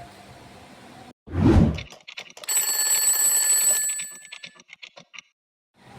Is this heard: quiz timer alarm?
yes